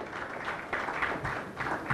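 Conference audience at an international galvanizing conference applauding as mementos are presented, a roomful of clapping heard from a distance, soft and steady with slight swells.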